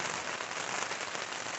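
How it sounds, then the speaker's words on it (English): Steady rain falling outdoors on a hiking trail in Vermont, a dense even hiss with a soft patter of drops and no voices. "it's just been raining since about 3 a.m."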